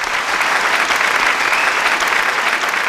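An audience at a Tamil debate event claps steadily and loudly throughout, a dense close burst of applause with no talk over it.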